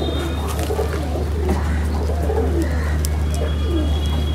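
Andhara Kalanga pigeons give soft, repeated low coos close by. A constant low hum fills the background, and a few faint chirps rise above it. No one talks.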